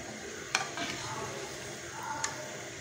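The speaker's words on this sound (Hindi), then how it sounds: "ये देखें चावलों को माशाल्लाह से अच्छी तरह से बॉयल आ रहा है" Rice for mutanjan, a sweet zarda-style dessert, boiling in a pot of water, a steady bubbling hiss at close range with a couple of brief clinks, no talking.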